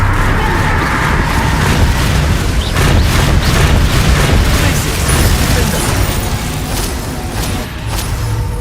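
Magical Reducto spell blasts erupt in Hogwarts Legacy combat, loud booming bursts layered over a dense rumbling low end, with several distinct impacts across the span and no speech.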